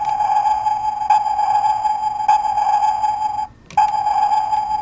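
Sonar sound effect from an Optimus Prime toy: repeated bright electronic pings with a steady tone, sounding at regular intervals with a brief dropout near the end, close and clear with no voices.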